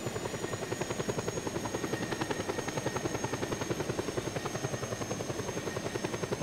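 Helicopter flying in the game Just Cause 2, a steady rapid rotor chop with a continuous engine whine, loud and close throughout with no talking.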